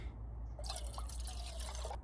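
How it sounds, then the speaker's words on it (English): Water pours steadily from a small plastic bottle into a cup at a campsite stove setup, a soft continuous trickle lasting under two seconds over a low background rumble. "To save yourself from wasting water, put it into your cup first"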